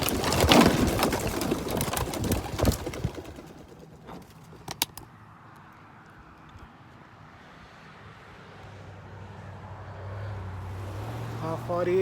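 A flock of 48 young racing pigeons bursts from a release truck in a loud rush of wing flaps at the start, then the sound thins to distant outdoor ambience with faint bird calls and a low engine hum.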